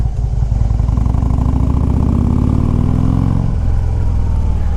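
2014 Harley Davidson Street Glide FLHX on the road, its V-twin rumbling loud and close, the engine note climbing smoothly under acceleration before dropping back and carrying on.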